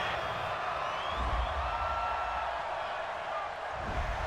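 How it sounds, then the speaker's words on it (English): A football crowd at a Patriots–Chargers game reacts with displeasure to a penalty call, a broad, sustained roar of boos and jeers from a large stadium audience, steady and fairly loud throughout. "this crowd does not like that call"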